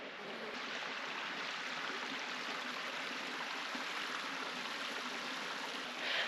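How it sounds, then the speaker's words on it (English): A stream flows over rocks in a hilly Namibian valley, giving a steady, broadband rushing of water close by that stays even throughout, with a small surge near the end. "here's the stream again"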